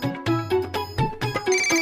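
A mobile phone ringtone plays close and loud, a bright electronic melody of repeated rising tones in a quick, steady rhythm, with no one speaking over it.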